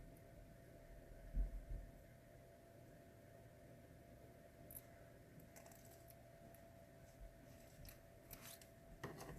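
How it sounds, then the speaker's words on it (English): Scissors snip off excess material while a dollhouse jewelry stand is being built, heard as a few faint, close cuts in a quiet room, with a brief sharper snip early on and light rustling afterward. "Alright, go ahead and cut that excess off."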